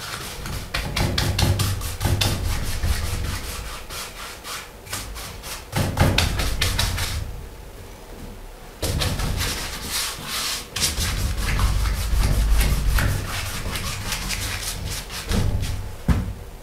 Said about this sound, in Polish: Pędzelek dosyć intensywnie wgniatać, jak słyszycie, cały blade tam silnie pracuje